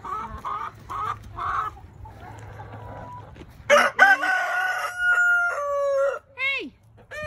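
A rooster crows loudly and close in a backyard chicken pen, with one long ringing cock-a-doodle-doo and shorter calls after it. Clucking and softer bird sounds come before and between the crows.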